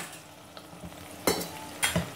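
Mutton being stirred and fried in a pan for a Sindhi-style curry, with a steady low sizzle broken by two loud scraping stirs of the spoon against the pan.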